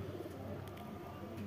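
Imported-bloodline pigeons of A1 quality give a soft, low cooing, faint and steady across a short stretch with no talk over it.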